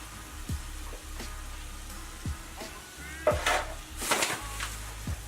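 Flour and onions cooking down in a pan for Salisbury steak make a soft, steady sizzle with occasional clinks and scrapes of a utensil stirring, close by and moderately quiet.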